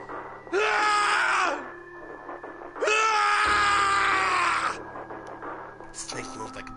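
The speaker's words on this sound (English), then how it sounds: "His scream echoed through the incinerator chamber full of rage and despair." A man lets out two long, loud screams of rage and despair in the video game 999, each several seconds, voiced in an incinerator chamber over a low background hum.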